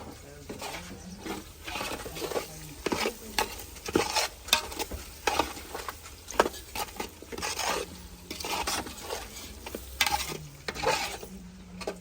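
Pulao masala being stirred in a pan, with repeated scraping strokes of a spoon against the pan in an uneven rhythm over a soft sizzle, close and fairly loud, with no talk.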